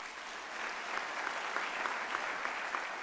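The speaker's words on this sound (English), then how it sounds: "Let's give them an applause," A crowd at an academic-year opening ceremony applauds steadily and evenly throughout, with dense clapping heard from a moderate distance.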